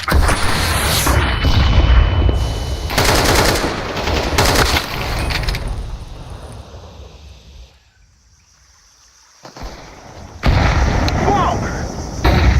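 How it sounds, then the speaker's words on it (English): In Counter-Strike 2, a flashbang grenade goes off amid dense gunfire. The noise drops to near silence with a thin high ringing, then loud shooting bursts back in, and a voice talks. "Throwing flashbang."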